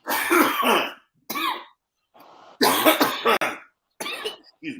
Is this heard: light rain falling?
no